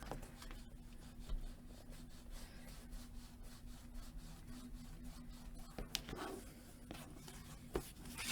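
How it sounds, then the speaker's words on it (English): Paper is burnished to glue it down onto a page of a mini album, a continuous soft rubbing and scraping that comes in repeated strokes, close and quiet, with a couple of sharper taps near the end. "burnish that in as you lift up and burnish so that it's gluing down"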